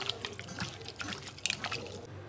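Water poured into chicken masala in a pan, a light irregular splashing and dripping trickle, close and fairly soft, cutting off near the end.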